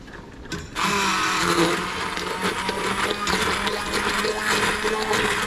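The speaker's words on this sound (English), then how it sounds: "if you've never used an immersion blender before, it's just basically a blender on a stick." An immersion blender whirs continuously through hot sauce in a container, starting abruptly after a quiet moment and holding a steady, close buzzing motor tone with wet churning.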